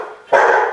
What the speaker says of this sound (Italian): il cane abbaiava perché ha sentito una macchina in cortile